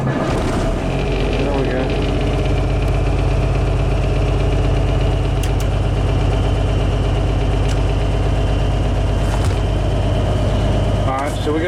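A 1981 International cab-over truck engine starts after sitting for years, then settles into a loud, steady diesel-like idle with a deep low rumble throughout, and someone speaks briefly over it.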